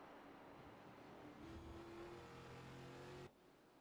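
Race car engine accelerating in the iRacing sim at the Milwaukee Mile oval, a steady rising engine tone that climbs in pitch and then cuts off abruptly near the end, heard alone at moderate level.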